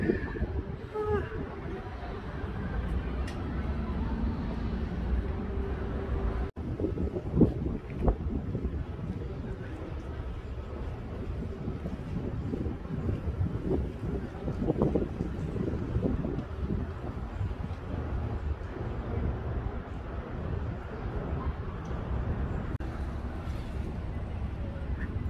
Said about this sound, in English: I never realized the weather is gonna be windy.